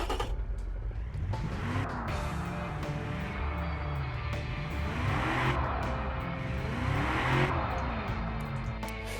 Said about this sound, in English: sounds like a muffled V8